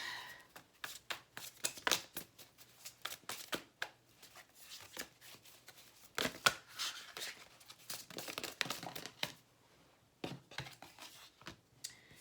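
Tarot cards being shuffled and drawn, quiet close riffling and slapping of card stock in uneven bursts, with a short pause before a final flurry of handling.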